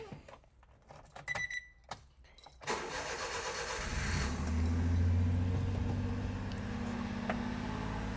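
A van engine with a newly swapped distributor cranks and catches after a few clicks, then settles into a loud, steady, high-revving idle close by.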